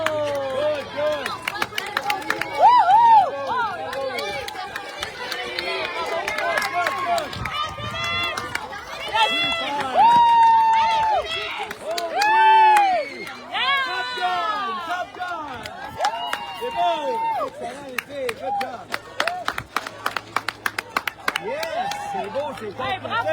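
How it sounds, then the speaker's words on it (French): Spectators at the Navigateurs 2026 health challenge race clap and cheer for finishing runners, with bursts of applause, shouted encouragement and chatter. Voices call out throughout, and the clapping grows choppier toward the end. "Il reste encore quelques coureurs. On continue de les applaudir."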